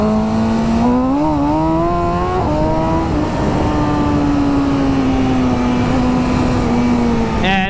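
A BMW S1000RR M Sport superbike held in a wheelie, its engine droning steadily and loud with a slight pitch rise and dip, then easing off near the end, alone without talk.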